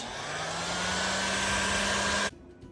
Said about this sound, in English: Now I'm just going to shoot this with a bit of heat gun, just to make the heat shrink with heat.